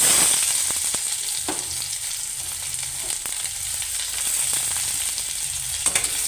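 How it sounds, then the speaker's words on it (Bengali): Chopped onion sizzles loudly in oil tempered with dried red chilli, bay leaf and whole cumin, a continuous frying hiss broken by scattered clicks and scrapes of stirring. "ফোড়নটা হয়ে গেলে দিয়ে দিচ্ছি কেটে রাখা পেঁয়াজ কুচো"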